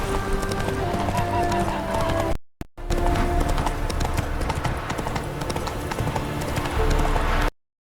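Horse galloping in The Witcher 3, a rapid, steady clip-clop of hooves running loud and close under a game soundtrack, broken by a brief dropout near the middle and cutting to silence at the end.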